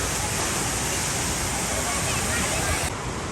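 A steady, full roar of a waterfall in the mountains of Kashmir, dense and continuous, close by, with no pauses.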